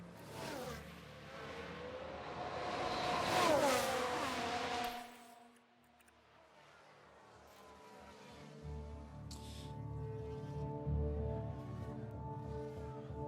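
F1 cars race in the F1 Manager video game, with a rising engine whine swelling as a car overtakes, then fading into a steadier low drone of several cars running together.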